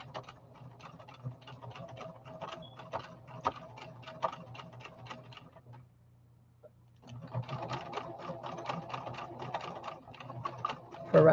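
A sewing machine stitches in rapid, steady ticking bursts nearby, stops for a short pause, then runs again at a similar quick pace.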